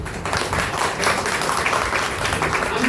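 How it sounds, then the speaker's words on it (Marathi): An audience at a senior citizens' club gathering in Sanpada, Navi Mumbai, applauds steadily, a dense continuous wash of many hands clapping at full loudness throughout. "तुम्ही आपल्या मुलासाठी टाळ्या वाजवा"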